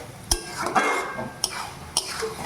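A lid clanks onto a cooking pot of small-fish chorchori, giving a few separate metallic clatters and knocks, close and clear, with scraping between them.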